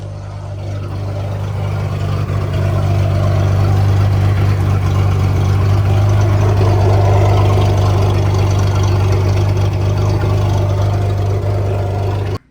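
A heavy MerCruiser boat inboard engine idles close by while warming up, a deep, steady rumble growing slightly louder early on before holding constant, then cutting off abruptly.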